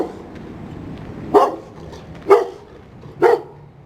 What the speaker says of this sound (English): Dog up ahead.